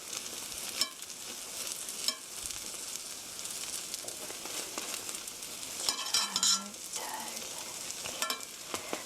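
Tomato pancake batter sizzling and frying in a pan as it is spread evenly, a steady crackling hiss with occasional scraping and clinks of utensils, close and moderately quiet, no talking.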